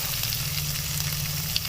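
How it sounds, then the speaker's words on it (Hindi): Chopped onion sizzles with chicken pieces in a hot pan while making macaroni, a constant close hiss of frying with a low steady hum beneath and a faint clink near the end, no talking. "अब हम इसके अंदर डाल देते हैं 1 प्याज कटी हुई"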